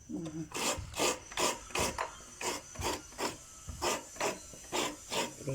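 Coconut being scraped on a traditional Thai rabbit-shaped stool grater, with steady rhythmic rasping strokes, about eleven in five seconds, close and clear with no talking.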